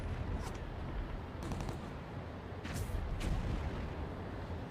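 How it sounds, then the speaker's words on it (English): Heavy guns firing in an animated battle, a series of booming blasts over a constant low rumble, with a few sharper bursts standing out, distant and steady with no talk. "Somebody's taking shots with the big guns."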